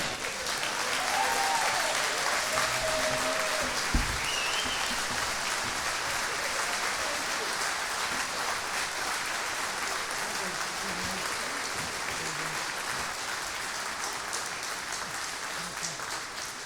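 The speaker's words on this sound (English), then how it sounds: "So I'd like you to give some applause to her." Sustained audience applause fills a hall during an RV Hall of Fame induction ceremony, a steady dense wash of clapping that holds at even strength throughout, with a brief thump near the start.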